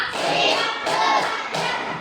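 A school class claps hands together in a counted rhythm, three loud, sharp group bursts spaced evenly and close by, with no talking.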